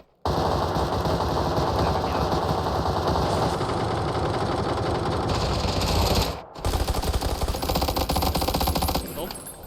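Gunfire in the PUBG video game: sustained, loud automatic bursts rattle almost continuously, broken by a brief pause midway, with players talking over the shooting.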